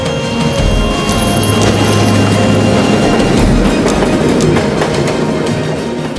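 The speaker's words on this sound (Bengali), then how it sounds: "সমান্তরাল এই পথ ধরে রাত দিন কত শত ট্রেন আসে যায়, আর আবুল কাশেম সবুজ ফ্ল্যাগ নাড়িয়ে সংকেত" A train rolls past on a railway line at a level crossing, a loud, steady rumble of wheels and carriages with faint metallic squeals running throughout.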